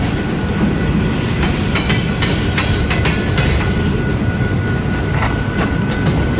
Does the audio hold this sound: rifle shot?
no